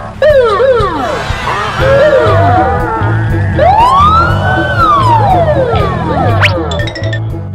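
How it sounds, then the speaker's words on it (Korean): Loud, close electronic siren with rapidly sweeping wails and whoops, layered and continuous like a toy police car, with a rhythmic low pulsing beneath. "이것은 경찰차"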